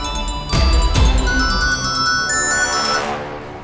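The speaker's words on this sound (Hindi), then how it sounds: "फोन की आवाज आ रही है" An electronic phone ringtone plays a tonal melody, with two dull thumps near the start.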